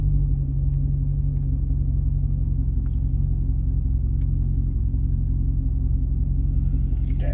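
2007 Chevrolet Corvette Z51 coupe engine idling, a steady deep low rumble held evenly throughout with no revving, close and alone.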